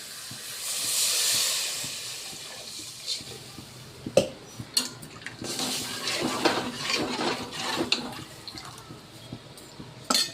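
Water hits a hot pan with red lentils, a loud hissing burst of steam that quickly dies down, followed by scattered clinks and knocks of cookware.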